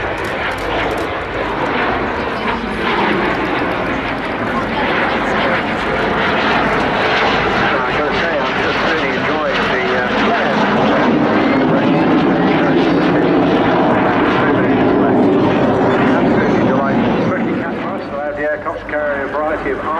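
A Jet Provost-derived jet trainer with about 3,500 pounds of thrust flying at the Southport airshow, a loud, sustained roaring whine that sweeps and shifts in pitch as it passes, with a commentator talking throughout.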